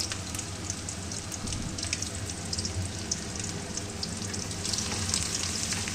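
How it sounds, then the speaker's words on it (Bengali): Chopped garlic fries in hot oil left from frying chicken fritters, sending up a close, continuous crackling sizzle with sharp spitting pops scattered through it, and no talking. "এইবার ওই তেলেই আর রসুনটা ফোড়ন দিলাম, রসুন কুচি"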